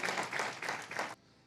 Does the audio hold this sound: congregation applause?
yes